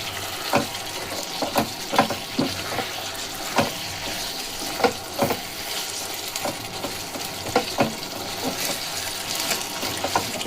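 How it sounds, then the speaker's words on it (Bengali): Fried eggplant is stirred and coated with spice paste in a pan, a steady sizzle broken by a regular series of sharp scraping and clinking strokes from the spoon, close and moderately loud, no talking. "এবারে এগুলোকে একটুখানি মাখিয়ে নেবো, কোট করে নেবো এগুলোর সাথে মশলাটা।"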